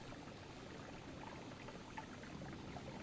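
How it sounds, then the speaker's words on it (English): Acid potion pouring out of a flask in the pixel-physics game Noita, a steady trickling, splashing liquid stream that runs unbroken and fairly close, with no talk over it. "I'm gonna pour out a bunch of acid and instead fill this flask with water."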